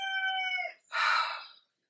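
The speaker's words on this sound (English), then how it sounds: "my rooster is literally crowing by my back door right now" A rooster crows right by a back door: one loud, close, tonal crow that breaks off, then a short harsh burst, heard alone with no talk.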